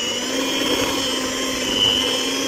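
Cake batter being whipped with an electric mixer, a steady close motor whine holding level throughout with no pauses.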